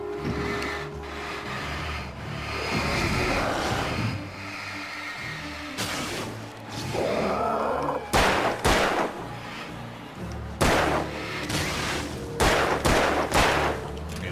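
Gunfire in the horror action game Alan Wake, sharp loud shots ringing out in several bursts over a rumbling, tense game soundscape, with no talking.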